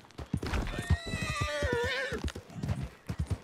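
A horse in Red Dead Redemption 2 gives a loud, wavering whinny over a steady clip-clop of hooves, close and clear, with no talk.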